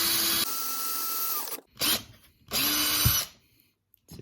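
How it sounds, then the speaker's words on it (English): A power drill boring a hole through overhanging scrap wood, two loud whining bursts with the motor pitch changing as the bit bites and then breaks through, separated by a short quiet gap. "if I drill a hole into this bit of wood here"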